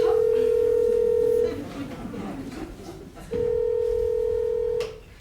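A mobile phone gives out a steady electronic tone in two long bursts with a gap between them, while a voice speaks during the pause.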